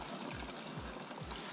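Water from an electric brushless Ryobi 2,000 PSI pressure washer's detachable tank pours out in a steady broadband gush, with three short low thumps as the liquid sloshes, continuous and fairly loud with no voices.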